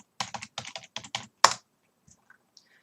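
A password is typed on a computer keyboard, a quick run of close key clicks ending in one louder press. A few faint, scattered taps follow in an otherwise quiet room.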